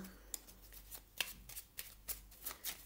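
Oracle cards shuffled by hand, a quick series of soft, crisp riffling flicks in an uneven rhythm, close and quiet with no talking.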